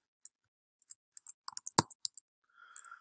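A person types details into a handheld device with a quick, irregular run of light, close taps and clicks, each one short and crisp against silence, ending in a brief soft rustle.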